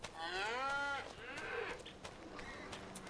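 A single drawn-out moo from a dairy cow in the farming video game Farming Simulator rises clearly, then fades into faint background farm ambience.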